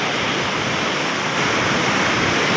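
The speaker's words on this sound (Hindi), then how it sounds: "पानी चेक कर सकते हो दोस्तों क्या ज़बरदस्त पानी है" Rushing water pours loudly and continuously at a fishing spot, a dense roar filling the whole moment with no voices over it.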